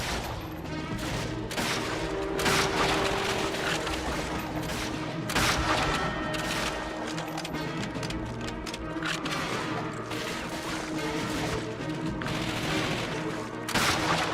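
Sustained automatic fire from German machine gunners in Call of Duty: Finest Hour, a loud, unbroken rattle of overlapping bursts with sharp cracks and thuds layered through the whole battle scene.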